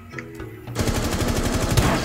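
Rapid automatic gunfire in Rainbow Six Siege, a dense, loud burst of repeated shots starting after a quieter opening and continuing steadily to the end, with no talk over it.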